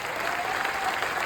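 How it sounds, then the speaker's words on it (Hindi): Brief burst of continuous crowd applause in a large hall at a birthday celebration speech, dense and even clapping with a faint tone underneath. "उसके बाद आए हुए अपने यूटीसी मैडम फनशंकर मैडम को जोरदार तालियां।"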